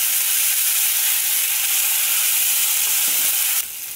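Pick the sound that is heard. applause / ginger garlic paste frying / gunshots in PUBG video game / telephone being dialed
ginger garlic paste frying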